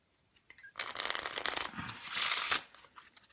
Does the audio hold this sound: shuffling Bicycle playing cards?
yes